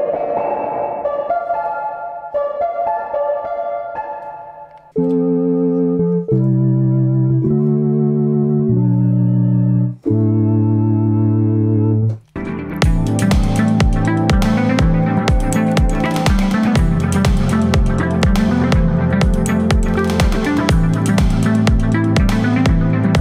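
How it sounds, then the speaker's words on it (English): A koto piano preset from the Baby Audio ATOMS synth plugin plays plucked, bright melodic notes in separate phrases, then a dense, driving pattern with a steady pulsing bass, loud and clear with no voices. "Sweet sound there too. Koto piano."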